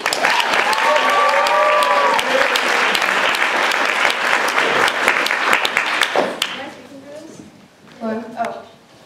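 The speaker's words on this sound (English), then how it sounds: "So let's give a welcoming applause to Kathy." Applause welcomes a new member to a group, a burst of clapping from a small crowd lasting several seconds before fading, with voices speaking over and after it.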